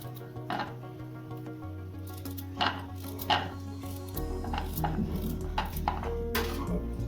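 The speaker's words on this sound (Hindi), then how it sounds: "तो आज मैं कद्दूकस नहीं करूँगी, मैं यहाँ पे ली हूँ चॉपर। तो इसमें मैं डाल दूंगी गाजर को।" Carrots being chopped in a hand-operated manual food chopper, giving a series of sharp, close chopping clacks at an irregular rhythm over steady background music, with no talking.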